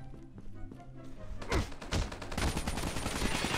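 Rapid gunfire in Call of Duty Mobile during a one-on-one duel: a few scattered shots, then dense, loud automatic bursts that keep building, heard over a faint background tone.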